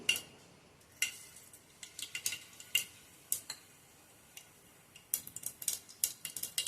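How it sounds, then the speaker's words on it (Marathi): Mustard seeds crackle and splutter in hot oil in a pan while a Maharashtrian cauliflower curry is being cooked. Sharp, irregular pops come in clusters, close and fairly quiet, with no talking. "हे आता तेल तापलेलं आहे। मी यामध्ये घालते 1 चमचा एवढी मोहरी"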